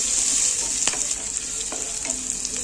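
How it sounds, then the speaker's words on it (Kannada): Onion jeera rice with mint frying in a pan, a continuous close sizzle with occasional stirring scrapes and taps, no voices. "ಫ್ರೈ ಆಗ್ತಿದೆ ನೋಡಿ"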